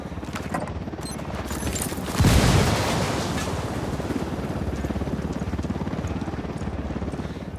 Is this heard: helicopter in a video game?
yes